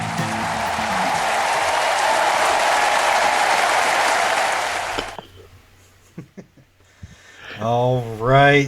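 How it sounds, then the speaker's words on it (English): A podcast crowd cheers and applauds loudly and steadily for about five seconds, then fades out, followed by a few scattered claps and a person beginning to talk. "that's the sound of cheers for the next episode of the Geeks and Greeks podcast"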